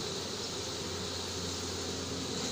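A swarm of honeybees recovered from a natural swarming in Soignolles-en-Brie hums in a steady, dense, continuous drone, close and unbroken throughout, with no voices.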